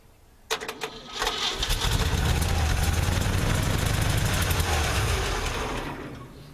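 A 1958 Chevy Napco 4x4 truck engine cranks with a few uneven coughs, fires up, and runs with a loud, rough, rumbling idle before easing off slightly at the end.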